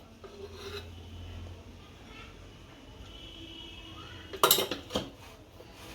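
A spoon mixes spice stuffing with oil in a metal bowl for stuffed gunda curry, making faint rubbing and scraping, then a brief burst of louder clinks and scrapes near the end.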